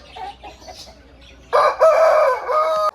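Heavy-bodied hens cluck softly, then a rooster nearby lets out one loud, sustained crow that dominates the second half.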